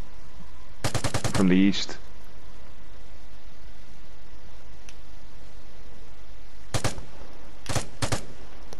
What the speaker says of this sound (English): Oh god, we're getting shot at from our right as well.